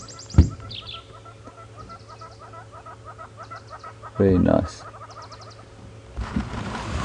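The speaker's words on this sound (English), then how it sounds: "they make that lovely tinking sound" A yellow-fronted tinkerbird gives a steady series of repeated tinking notes against a bush backdrop with other birdsong, a louder thump, and a brief spoken voice, on a morning safari drive at Djuma Game Reserve.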